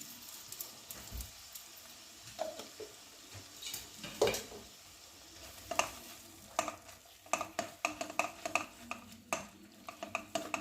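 Spice paste (masala) with tomato puree fries in a pan, with a quiet sizzle under repeated scraping and clinking of a spoon stirring against the pan in an irregular rhythm.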